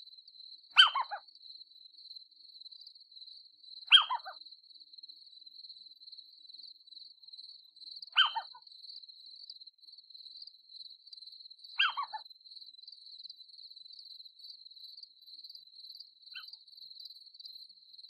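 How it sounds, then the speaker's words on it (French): Crickets and grasshoppers trill in a meadow at night, a thin continuous metallic buzz that runs throughout, broken by four short, sharper chirp bursts spaced a few seconds apart and a fainter fifth near the end. "Le bruissement lancinant et métallique des régiments de sauterelles, de grillons, de locustes et autres courtières"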